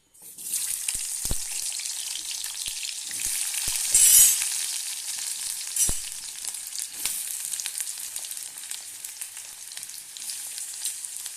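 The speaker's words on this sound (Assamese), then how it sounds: "এতিয়া প্ৰথমতে মই আলুখিনি ফ্ৰাই কৰি ল'ম অলপ" Potatoes fry in hot oil in a pan, a steady soft sizzle with occasional stirring scrapes and clinks, close and fairly quiet, with a brief louder hiss midway.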